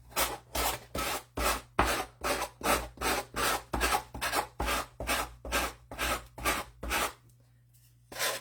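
Sandpaper rubbed one way along the paper edge of a Dollar General jar decor piece makes about fifteen steady, evenly spaced rasping strokes, loud and close, before it stops and falls quiet.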